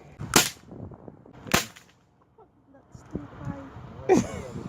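Two sharp, loud pops from a small bird gun, spaced about a second apart, followed by quieter clatter and rustling; a person speaks briefly between shots.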